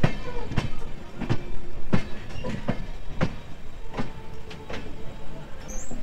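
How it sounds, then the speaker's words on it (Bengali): The North East Express train rolls along the rails from Deen Dayal Upadhyay, with a steady rumble broken by repeated sharp clicks and clacks of the wheels over rail joints, heard from inside the carriage. "৬:৪৫-এর বদলে ৮:৫৫ আমাদের ট্রেন দীনদয়াল উপাধ্যায় থেকে যাত্রা শুরু করলো"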